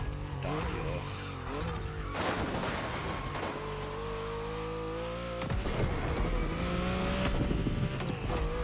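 Race car engine in The Crew Motorfest's Maui tour, revving and shifting through rising and falling tones with a brief whoosh of a passing car, someone talking over the steady engine drone.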